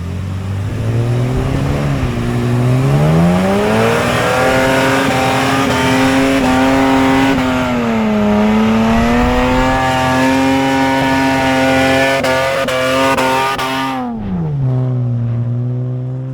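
Several off-road cars in a beach convoy climb a sandy track up off the beach, engines loud and close with steady revving that rises and falls in pitch before easing off near the end.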